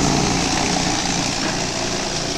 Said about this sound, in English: that noise you're hearing is I'm polishing some brass with a tumbler